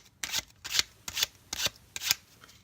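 A deck of playing cards is shuffled in five quick, crisp riffling bursts, close up and evenly spaced, with short pauses between them and no talking.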